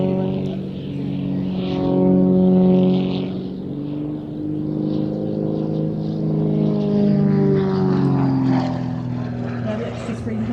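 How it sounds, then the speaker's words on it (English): A single-seat Extra 300 aerobatic propeller plane performs at an air festival, its engine drone loud and rising and falling in pitch as it swoops and maneuvers, with an announcer talking over it. "This is the single seat version of the Extra 300, designed by Walter Extra"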